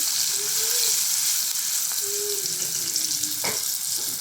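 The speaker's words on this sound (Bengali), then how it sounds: "পেঁয়াজ রসুন কিন্তু একটু ভাজা ভাজা হয়ে আসলে" Onion and garlic frying in oil with green chili and salt in a home kitchen, a steady close sizzle throughout with one brief utensil knock partway through.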